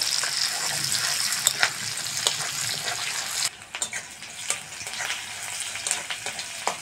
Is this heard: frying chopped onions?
yes